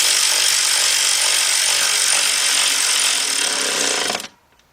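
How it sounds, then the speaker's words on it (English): Cordless 3/8-inch drive ratchet with a 10mm deep socket working bolts on a Volkswagen Beetle engine during head gasket and timing belt service: a loud, steady, close whirring drive running continuously for about four seconds, then cutting off abruptly into near silence. "I got my 10mm deep 3/8 drive with my cordless 3/8 drive ratchet."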